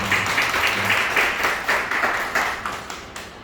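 A church congregation applauding during a Palm Sunday service in Korea, a steady roomful of clapping hands with a fairly even rhythm that fades slightly toward the end.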